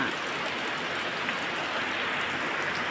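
Steady, dense rain pouring down without pause, a constant broadband hiss filling the space with no voices.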